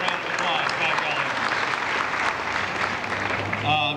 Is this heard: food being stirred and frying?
no